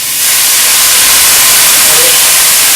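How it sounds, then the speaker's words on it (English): Wine poured into a hot pan of beef erupts into a loud, steady sizzling hiss that starts almost at once and holds at full strength, bright and close, with no pauses. "I'm going to pour in the wine"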